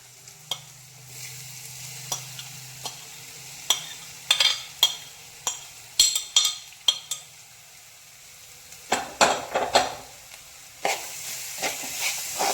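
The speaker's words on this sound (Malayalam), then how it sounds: "പഴവും തേങ്ങയും ശർക്കരയും ഇതിനകത്ത് കിടന്ന് നന്നായിട്ടൊന്ന് എന്താ പറയാ, നെയ്യിൽ കിടന്നൊന്ന് നന്നായിട്ട് വഴട്ടിയെടുക്കാം." Sliced banana, coconut and jaggery sauté in ghee in a pan for kozhukkatta filling, with a soft sizzle under repeated sharp scrapes and clinks of a stirring spoon at an irregular pace. No one speaks.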